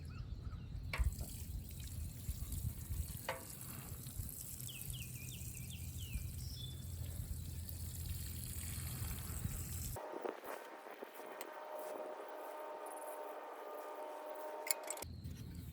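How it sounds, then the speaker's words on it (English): Water trickling and splashing at the base of a newly planted giant pumpkin seedling in a garden patch, a faint steady pour under outdoor ambience that gives way to a thinner hiss partway through. "I'm gonna water it in."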